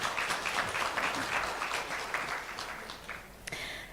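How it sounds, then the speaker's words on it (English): An audience at a book launch concert gives a round of applause for a former primary school teacher, a dense burst of clapping that gradually thins and fades toward the end. "let's give her a round of applause"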